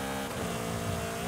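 Alpine A110 engine in Forza Horizon 5, loud and close, a steady sustained drone with harmonic revving, heard alone without talk.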